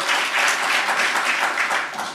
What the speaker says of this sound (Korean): 박수를 참 많이 쳐주시네요